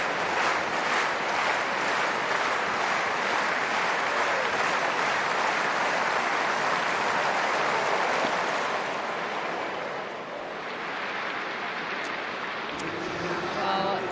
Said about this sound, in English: Crowd getting behind Barber.